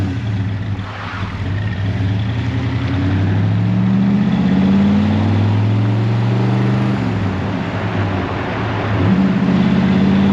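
A 1966 Plymouth Barracuda Formula S with a 273 cubic inch V8 cruises at road speed, its engine droning steadily with gentle rises and falls in pitch as it pulls along, loud and close without talk.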